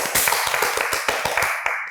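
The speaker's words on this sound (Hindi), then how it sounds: "तालियां होनी चाहिए।" A small group in a talk-show studio claps for the actors with quick, close, crisp claps that fall into a loose steady rhythm for about two seconds.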